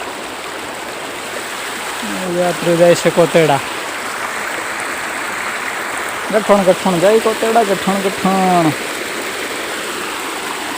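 Water rushes steadily in a constant broadband flow, with someone speaking briefly twice over the noise.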